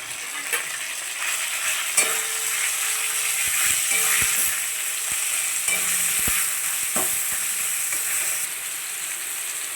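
Chicken mince fries in a pan with a continuous hiss and crackle, punctuated by sharp clinks and scrapes of a utensil being stirred against the metal.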